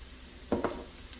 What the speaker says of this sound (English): Let's add just a little bit more garlic